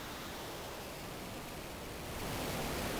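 A modular synthesizer feedback patch produces dense, steady hiss-like noise that grows slightly louder and brighter toward the end, heard alone without talk.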